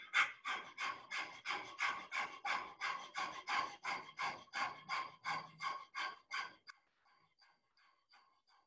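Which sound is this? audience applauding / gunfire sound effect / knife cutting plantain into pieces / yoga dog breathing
yoga dog breathing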